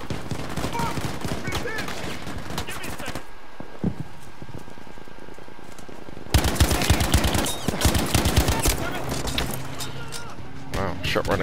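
Battlefield V gunfire rattles in rapid bursts, loud and close, with a short lull before another dense volley of shots; a voice talks over parts of it.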